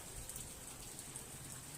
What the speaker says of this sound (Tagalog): Oo, umuulan.